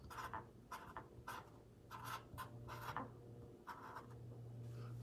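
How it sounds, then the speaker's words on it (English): Marker or chalk writing on a board, a series of short scratchy strokes in uneven bursts with small gaps, close and fairly quiet with a low steady hum underneath. "So I'll write that down."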